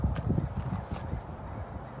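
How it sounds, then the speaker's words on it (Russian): Horses clip-clop close by with uneven hoof steps and a short whinny, while a person nearby murmurs in the background. "Лошадка."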